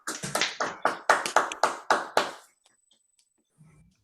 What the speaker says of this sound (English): Let's do a round of applause if everyone can please unmute,